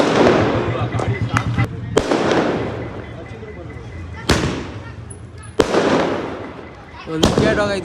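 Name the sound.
firecrackers bursting to celebrate a cricket wicket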